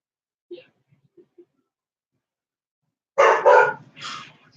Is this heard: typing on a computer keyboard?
no